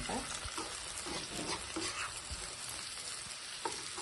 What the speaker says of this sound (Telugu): చక్కగా ఫ్రై అయిపోయింది గుడ్లు ఇప్పుడు కొంచెం కరివేపాకు వేసుకుందాం